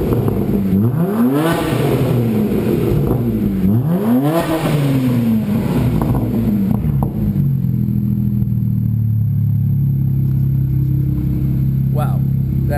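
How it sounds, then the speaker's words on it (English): A BMW 335i with an HPF stainless steel exhaust revs loudly up and down twice nearby, each blip rising and falling sharply before settling into a steady idle, with people talking over it. "Okay, Ryan, rev it."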